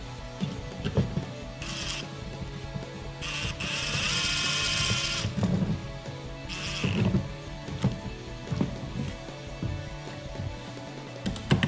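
Ratchet tightening the bolts of a Rugged Ridge Arcus front bumper on a Jeep Gladiator JT: bursts of rapid clicking between pauses, close and moderately loud, with metallic clanks in between.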